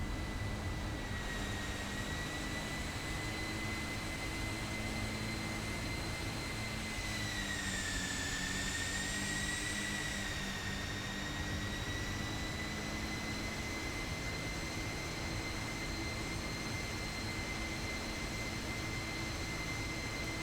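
A steady, droning hum of Boeing 747-400 jet engines in cruise inside the Prepar3D flight simulator, with a constant broadband rush and sustained high whine that bends briefly in pitch midway.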